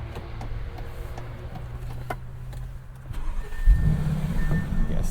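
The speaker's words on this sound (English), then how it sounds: "So we go start it, please." A 2023 Bentley Bentayga V8 starting up: a steady low idle hum, then the engine catches about three and a half seconds in with a louder, rougher low rumble that keeps running at close range.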